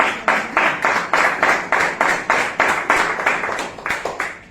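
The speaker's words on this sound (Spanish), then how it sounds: "Bueno, un aplauso." Rhythmic unison clapping from a congregation at a religious service, loud and close, about two sharp claps per second in a steady beat throughout.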